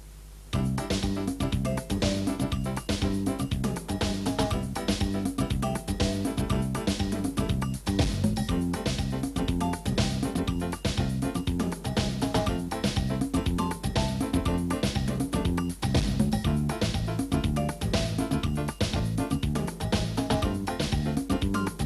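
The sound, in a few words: Yamaha QY10 sequencer playing a chord progression with pattern 58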